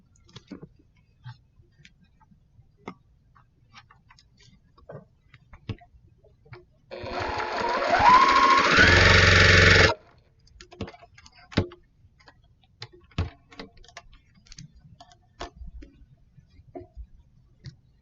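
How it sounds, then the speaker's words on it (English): A sewing machine runs in one continuous burst of about three seconds while chain piecing quilt block pieces, surrounded by quiet clicks and handling of fabric and no talking. "So you're sewing these 2 and 3/4 pieces to this 5-inch piece"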